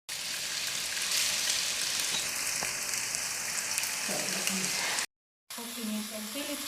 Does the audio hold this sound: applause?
no